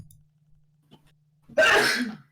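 A single sharp, loud burst of breath like a sneeze, abrupt and close, following a near-silent stretch with a faint low hum.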